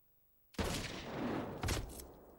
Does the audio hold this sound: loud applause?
no